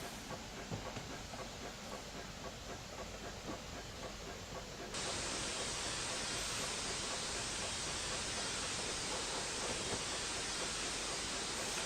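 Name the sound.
Black 5 steam train rolling along heritage railway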